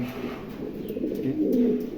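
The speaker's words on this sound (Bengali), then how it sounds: "চমৎকার এক জোড়া পমিনিয়ান আছে অনেক বিগ সাইজের কবুতর" A pair of large Pomeranian pouter pigeons with feathered feet coo softly and continuously, low rolling calls close by with no talk.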